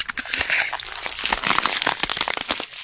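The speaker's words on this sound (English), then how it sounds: "the sound of like ice cubes shattering or any of those ice cracking sounds" Ice cubes cracking and shattering in a dense run of sharp crackles and crunches, steady and close for about three seconds with no voice.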